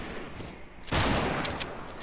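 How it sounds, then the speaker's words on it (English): Sniper rifle gunfire in a video game, a sharp close report bursting out mid-clip followed by a few quicker cracks and echoing shots, with faint background game noise. "Everybody's sniping at that guy."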